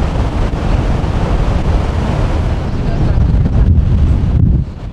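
Strong wind blowing over a hilltop high in the clouds, a steady roaring, buffeting rush that hits the microphone continuously and swells slightly toward the end.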